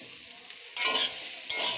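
A spoon scrapes and stirs mango pickle in a pan over the heat, two or three short, close stirring strokes against a soft background hiss of sizzling, with no talking.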